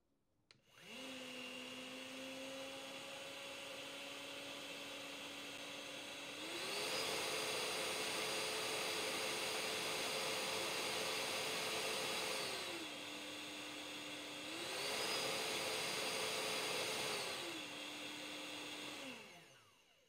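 A Philips Aqua Trio 9000 upright wet-dry vacuum cleaner hums steadily, its motor pitch rising twice to a louder, higher turbo setting and dropping back between, with no talking over it.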